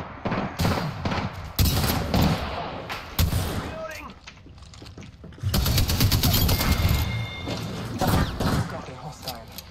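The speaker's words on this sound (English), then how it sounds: "But we're getting shot by Hemlock" Hemlock rifle fire in Apex Legends cracks out in repeated bursts of shots, some close and loud, with quieter gaps between volleys and voices talking over the action.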